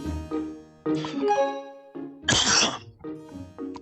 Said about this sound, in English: I just coughed in y'all's ears